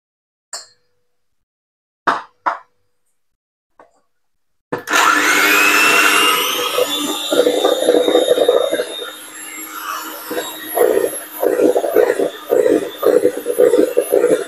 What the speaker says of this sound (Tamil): கொஞ்சம் கொஞ்சமாக சுகரும் சேர்த்து பீட் பண்ணுவோம்.